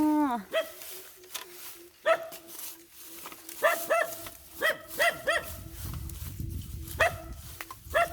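A dog barks in short, separate yelps spread across the stretch, moderately close, with a faint hum running beneath, outdoors in rural Thailand during the dry season.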